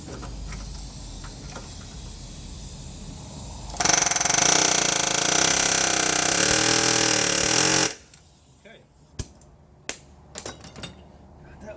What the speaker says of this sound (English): then we'll use the air hammer to tighten it up